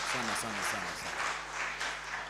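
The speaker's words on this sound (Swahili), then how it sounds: "naomba tuwapigie makofi hawa wamejitolea sana" Applause for a choir at a Kikuyu choral church service, a wash of clapping from the congregation under a speaker's voice, fairly faint and sustained.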